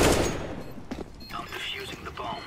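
Gunshots in a shooter video game crack and rattle in a quick loud opening burst, then trail off into scattered softer shots and game noise.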